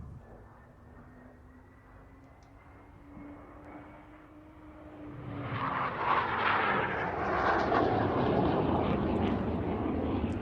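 A 1958 Hawker Hunter T7 jet trainer in silver livery at an airshow, a distant steady engine whine that swells into a louder, broad roaring rush as it approaches and passes.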